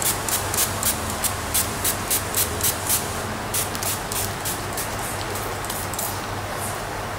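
Motul M2 cleaner sprayed inside a motorcycle helmet: a loud, continuous close hiss broken by short rhythmic pulses in the first half, with no talking.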